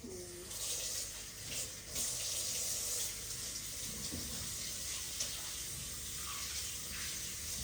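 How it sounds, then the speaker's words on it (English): Water runs steadily from a tap over hands being rinsed at a sink, a continuous broadband splashing hiss throughout with little variation, close by and fairly loud. "Gonna rinse your hand."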